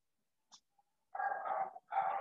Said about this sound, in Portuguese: agora os cachorros resolveram que é a hora de latir.